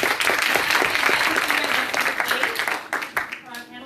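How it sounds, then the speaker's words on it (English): A symposium audience at a university campus event applauds the speakers with full, sustained clapping that gradually loosens into fewer, more separate claps as it dies down. "one more round of applause for the speakers"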